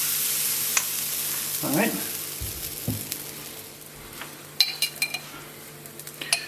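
Herring pancakes frying in a hot pan give a steady sizzle, joined by a brief scrape of stirring and a few light clinks of utensils. A voice says one short word.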